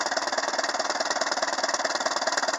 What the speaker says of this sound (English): If it wasn't for that little donut exhaust leak right there, this engine would be absolutely silent.